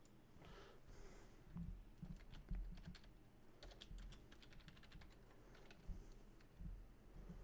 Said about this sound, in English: I'll type that shit in so you fucking know how to fucking type it in too